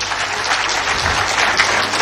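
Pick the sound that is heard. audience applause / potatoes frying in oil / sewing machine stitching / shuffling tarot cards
audience applause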